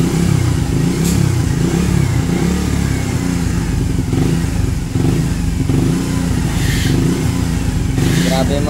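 A Suzuki Raider 150 FI motorcycle idles nearby with a steady, loud engine drone and slight throttle wavering, a rough-running bike that keeps stalling, with faint voices in the background.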